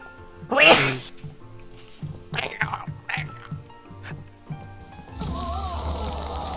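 A single loud, close sneeze bursts out near the start, followed by quieter clicks, soft mouth sounds and a low background hum.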